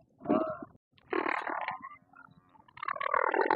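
A camel at a livestock market belches with deep, rumbling gurgles in several bursts, close and fairly loud, while market noise carries on around it.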